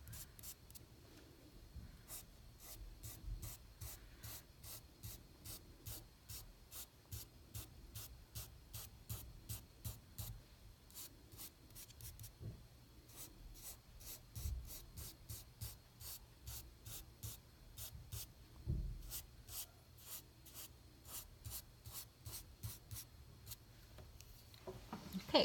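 Chalk pastel rubbed and blended on paper for a northern lights drawing, soft close hissing strokes in quick rhythmic runs, very quiet, with faint sharp ticks throughout.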